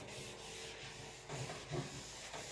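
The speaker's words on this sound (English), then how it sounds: "With gel stain, you rub it on." Gel stain is rubbed by hand onto an antique wooden dresser, giving soft, scratchy friction strokes with a few louder swipes toward the end.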